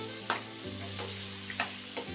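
Cut cluster beans fry in hot oil with a steady sizzle while a spoon stirs them, scraping the pan in a few distinct strokes, close and alone without talk.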